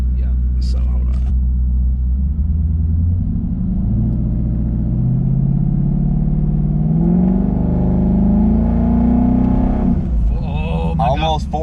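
A 2019 twin-turbo Coyote V8 with a 10R80 transmission held on the brake in second gear for a stall test, a loud, steady, low engine drone that builds slowly in pitch, with people talking briefly at the start and end.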